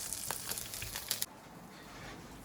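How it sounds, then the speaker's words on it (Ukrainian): Pork fat (salo) sizzles in a pan as it renders into lard, a hissing crackle with a few sharper pops early on that quickly settles to a softer, steady fry. "Тепер трошки сала висмажуємо смалець з нього."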